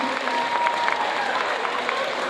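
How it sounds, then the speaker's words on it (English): A crowd claps steadily for a speaker at a school gathering for new students, a dense, even patter of applause at moderate volume that lasts the full stretch, with a voice faintly audible underneath. "You can clap for me too, don't be shy."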